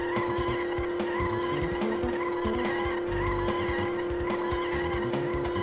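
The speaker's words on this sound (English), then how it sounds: "You can hear my tires are really struggling to keep it together here" Tires squeal continuously in the racing video game Road Trip Adventure, a steady high screech layered over a droning car engine, loud and close with no talking.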